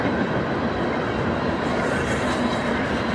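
A loaded BNSF coal train rumbles past steadily, a continuous rolling roar of heavy rail cars heard at moderate distance without any voices.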